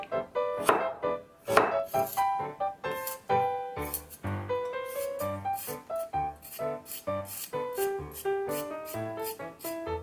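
A knife chops burdock root on a cutting board in a steady series of crisp, close knocks. Brief light clinks come through between the cuts.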